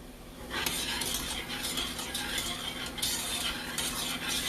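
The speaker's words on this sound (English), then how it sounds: "so I continually whisk my grits over and over so they can not be lumpy" A metal whisk scrapes and clatters steadily against a pot of grits on the stove, a busy rhythmic stirring that runs almost continuously with a faint sizzle beneath.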